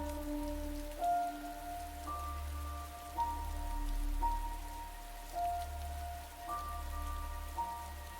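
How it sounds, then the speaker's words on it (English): Steady rain falls in a rainy-night scene for a horror story, a constant soft patter on a surface under a quiet sustained musical tone that shifts every second or so, with no talking. "It was a rainy night"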